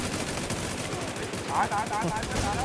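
Rapid gunfire in a shooting video game, with a steady stream of close, loud shots running throughout and a voice talking over it.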